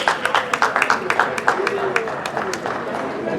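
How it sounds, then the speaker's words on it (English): Crowd applause at a Manassas High School jazz festival kickoff, a steady patter of many hands clapping with scattered sharper claps, fairly close and sustained, with murmured voices mixed in. "Give him a round of applause."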